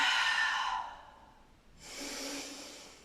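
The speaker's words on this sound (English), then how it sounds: "Gradually deepening both halves of the breath" Deep, slow breathing during a short dynamic meditation: a long airy exhale fading out, a pause, then a strong drawn-in breath, close and clear with no talk.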